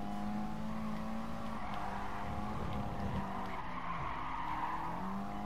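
A Nissan 180SX racing and overtaking in Gran Turismo Sport, its engine droning loud and constant with shifting pitch while tires squeal and skid throughout.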